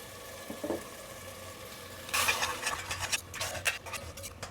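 Biryani masala fries in oil inside a pot, a quiet crackling sizzle that swells into bursts of stirring and spattering midway through, near and fairly soft.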